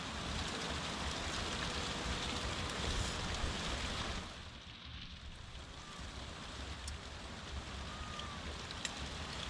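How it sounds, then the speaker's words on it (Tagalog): Steady, dense rain pours down, a broad hiss with pattering drops on surfaces that eases slightly partway through and continues without voices. "Ang lakas ng ulan."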